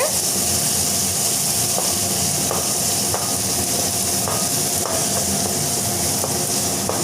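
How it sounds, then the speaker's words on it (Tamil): Crushed onion, garlic and black pepper sauté in a hot pan for an eggplant tamarind dish, giving a steady, continuous sizzle with occasional light stirring scrapes and no talking. "அடுத்து வந்து நம்ம தட்டி வச்சுருக்கிற வெங்காயம் பூண்டு ரெண்டுமே சேர்த்திக்கலாங்க"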